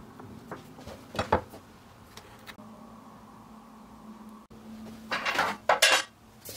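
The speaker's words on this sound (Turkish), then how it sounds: "Tatlılarımızı fırın tepsisine yerleştirelim." Pieces of baklava set down on a metal baking tray: several sharp close clinks and clatters of metal, clustered near the start and again in a louder burst toward the end, with quieter hum between.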